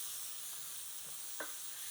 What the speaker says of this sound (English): Let these sizzle a little bit.